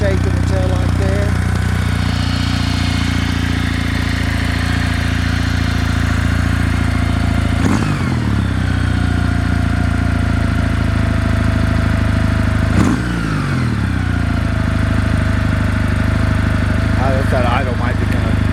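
A 2020 Kawasaki W800 motorcycle engine idling close by, a steady, even, low-pitched thrum with faint mechanical whir, interrupted twice by short passing swoops, while someone talks over it.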